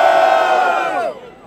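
A live rap battle audience roars in a loud, sustained burst of cheering and shouting, the crowd noise holding steady before dropping off sharply near the end and starting to swell again.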